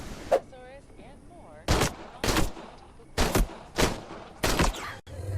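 Repeated gunshots from a gun in a dinosaur video game, about six loud sharp reports spaced roughly half a second to a second apart, with faint whistling game sounds between the first shots.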